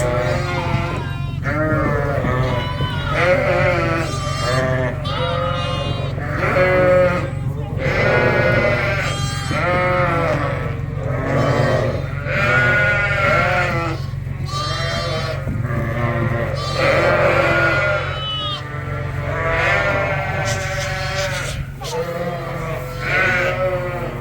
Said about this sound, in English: And here come the lambs.